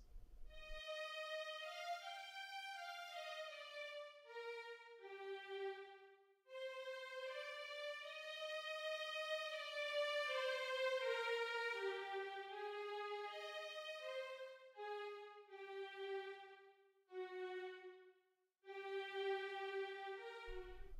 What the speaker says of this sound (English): The first violins carry the melody, and it sounds like this.